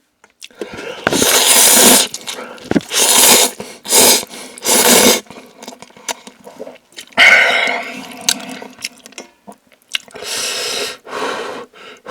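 Hand-pulled ramen noodles eaten up close, with loud, wet slurps and squelchy chewing in repeated bursts separated by short quiet gaps.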